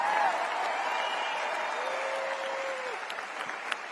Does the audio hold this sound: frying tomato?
no